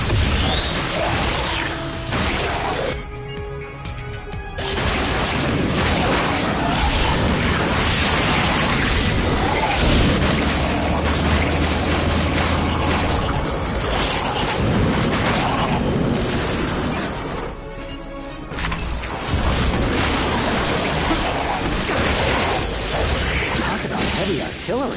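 Heavy artillery weapon fire in Ratchet & Clank gives a loud, nearly continuous barrage of explosions, bursts and mechanical whooshes, with brief lulls between volleys.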